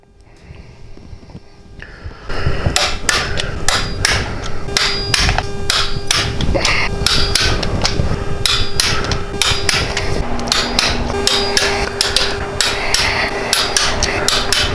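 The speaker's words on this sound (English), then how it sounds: "you're going to torque these to 12 to 13 foot-pounds, and it's going to be in a certain sequence" Bolts on a Harley-Davidson Touring motorcycle are tightened with a torque wrench, producing a fast, dense, continuous stream of sharp metallic clicks, loud and close, after a quieter opening few seconds.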